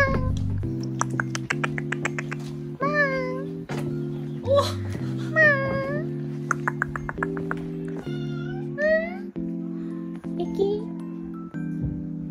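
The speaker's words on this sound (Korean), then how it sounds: "야, 저기 위에 고양이 또 있어." A cat meows repeatedly outdoors during a barbecue on a trip to Cheongdo, with a series of clear, close meows over steady background music and occasional voices.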